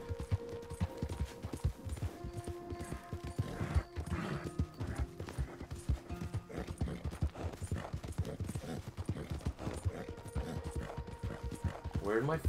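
Horse hooves clip-clop steadily in a Western-themed ride through a video game, the rhythmic hoofbeats close and prominent, with a whinny, music and occasional talk layered over them.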